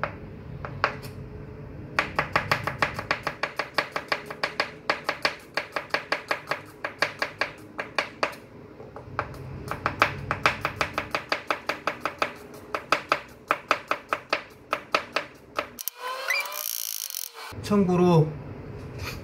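A knife rapidly minces garlic on a cutting board for kimchi, dozens of crisp, close chops in quick, steady bursts with brief pauses between runs.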